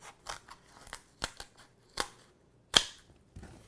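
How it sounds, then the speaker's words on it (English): Aspect stone tile being cut along a long straight line with scissors, heard as a series of sharp, crisp snips spaced irregularly, close and fairly quiet, with no talking. "And now we're going to be making the long cut all the way down the line."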